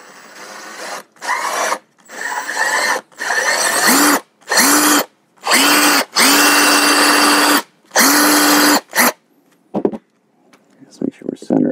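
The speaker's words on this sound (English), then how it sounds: "I'm going to try just drilling with this drill bit" Power drill boring a hole with a drill bit, loud bursts of whirring and grinding that start and stop repeatedly in short runs, close by, with brief pauses between.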